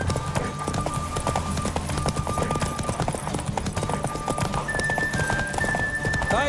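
Racing horse at full gallop in Witcher 3, a rolling, steady drum of hooves with occasional neighs and background game music, loud and close throughout.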